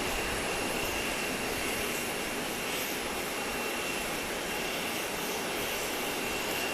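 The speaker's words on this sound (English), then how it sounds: "Cayman Airways Express is coming in from Georgetown. I'm sorry, coming in from Little Cayman, the smallest of the 3 Cayman Islands." Cayman Airways Express aircraft arriving from Little Cayman at Grand Cayman, a steady, fairly loud broadband engine roar that holds constant throughout with no voices.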